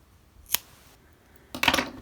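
Scissors trim the end of a crochet yarn tail, making a quiet single snip followed by a louder double snip close by, with near silence between them.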